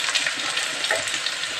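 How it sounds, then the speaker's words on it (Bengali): Raw green banana pieces drop into frying potatoes and sizzle, a steady bright crackle of hot oil close by, with no voices. "এখন আমি কাঁচা কলাগুলো দিয়ে দিচ্ছি"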